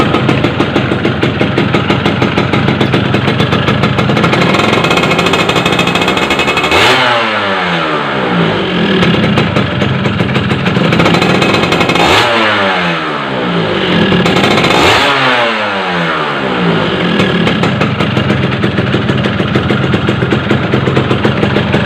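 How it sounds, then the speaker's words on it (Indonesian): Modified Yamaha F1ZR (Force1) two-stroke motorcycle engine running loudly and close, holding a steady high rev with three distinct throttle blips that rise and fall around the seven, twelve and fifteen second marks. "Ini meskipun suaranya keras kalau kita ambil, tapi sebenarnya dalam mesinnya itu halus ya."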